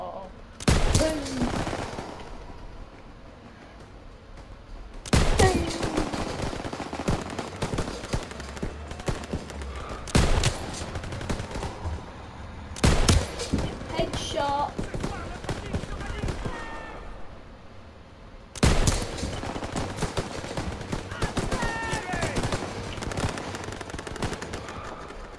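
Bursts of machine gun fire from the Call of Duty: WWII game at a bridge, loud sustained fusillades broken by short pauses, with clattering gunfire and battle noise between them.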